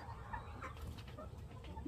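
Chicken clucking softly at a distance in a rural outdoor setting, a few short calls scattered over a steady low background rumble.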